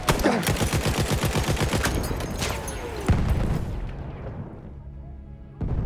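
Rapid bursts of automatic gunfire in Battlefield 1 multiplayer with booming shots and explosions, loud and close, fading into a rumbling echo.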